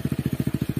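Motorcycle engine labouring in rapid, even pulses while the bike is pushed up a steep off-road slope, close and moderately loud with a steady throbbing rhythm and no talk.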